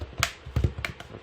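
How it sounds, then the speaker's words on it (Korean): A Galaxy Note 10.1 2014 Edition tablet's back case snaps into place under pressing fingers, giving a close, quiet run of four or five sharp plastic clicks and taps with no talking. "모서리를 이렇게 맞추신 다음에 꾹 눌러줘요. 그럼 딱 소리가 나요."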